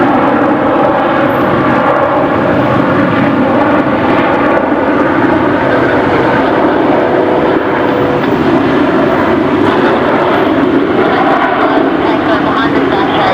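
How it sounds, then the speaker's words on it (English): An Emirates A380 airliner taxiing at Brisbane Airport, a loud, steady, broadband engine roar that stays constant throughout without pauses or distinct events. "So we'll see the Emirates 380 turn left onto"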